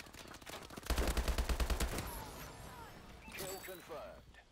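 Rapid automatic gunfire bursts out in a fast, evenly spaced string of close shots in the Call of Duty Advanced Warfare multiplayer game, followed by further game sounds and someone talking over the action.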